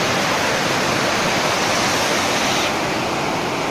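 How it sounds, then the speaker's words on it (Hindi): Polluted Rispna river water in Dehradun rushing over a drop like a waterfall, a loud, steady, dense roar of churning water filling the whole stretch with no voices. "आप देख सकते हैं पानी का प्रेशर कितना ज्यादा है और ये पूरी तरह से एक झरना बन चुका है।"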